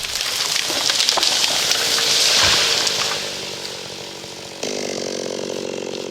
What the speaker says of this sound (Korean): 톱질에 50년 좋게 묵은 금강송이 쓰러집니다.